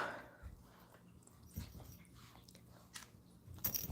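Two medicated chihuahua puppies, one a day after neutering, play together with soft biting, chewing and faint whimpers, a low, close scuffling with a few sharper crunchy bursts.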